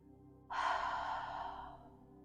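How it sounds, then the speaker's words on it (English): A single long exhale through a slightly open mouth during a yoga session, close and soft, a breathy rush that fades gradually over about a second and a half. "just open the mouth slightly and just exhale"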